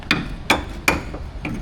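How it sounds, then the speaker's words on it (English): Hammer blows on a stuck part behind a seal during a car repair: four sharp metallic strikes at an uneven pace, close and loud, with quiet between hits. "So what I'm going to try to do is just hammer past the seal"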